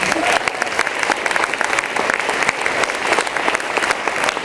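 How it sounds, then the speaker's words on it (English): Sustained audience applause at an eco hero award ceremony in 2006, a dense steady wash of many hands clapping close and loud throughout, with no talk over it. "by your applause."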